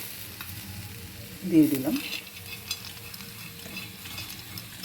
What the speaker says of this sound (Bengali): ভালো করে আবার নাড়াচাড়া দেবো।